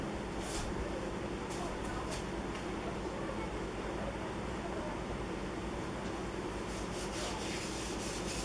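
Dough being rolled out to about half an inch thick, making a continuous soft rubbing and rumbling sound close by, with a few faint light clicks.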